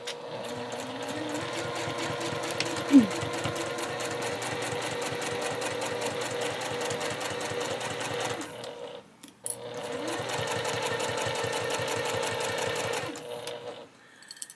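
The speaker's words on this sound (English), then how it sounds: "I'm going to start sewing from the middle and then go off the edge" A sewing machine runs steadily for long stretches as it stitches a bag from the middle out past the fabric edge, with one brief pause and a short restart. The rapid, close needle rhythm is heard alone.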